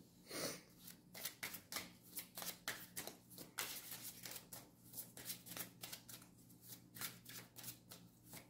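Playing cards are shuffled repeatedly for a card reading, a quick run of crisp riffling bursts and soft slaps in a steady close rhythm, quiet and without voices.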